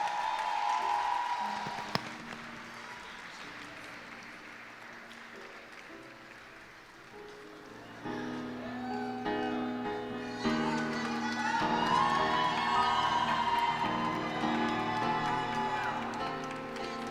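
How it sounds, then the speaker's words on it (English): Audience at a women's leadership awards ceremony applauds and cheers at moderate distance, the clapping swelling after a few seconds into a fuller, sustained ovation with scattered whoops. "Let's give her a round of applause."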